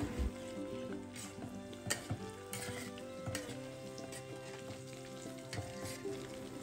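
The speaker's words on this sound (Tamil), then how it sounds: "இப்போ அந்த உருண்டை எல்லாத்தையும் வந்து ஃப்ரை பண்ணி எடுத்துக்கலாம்" Mutton kofta balls fry in oil with a continuous, moderately quiet sizzle, while a utensil stirs and knocks against the pan every second or so.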